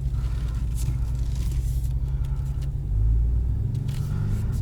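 A 2020 RAM 1500 Rebel pickup with a Carven exhaust and S&B intake idles in reverse, a deep continuous engine rumble that swells briefly midway, heard close from inside the cab with no talking.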